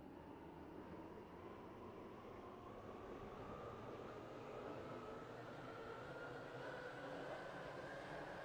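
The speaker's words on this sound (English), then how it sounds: "This train is for Airport Terminal 2." An airport rail link train runs steadily, its interior rumble and rising motor whine filling the space at low level with no talk.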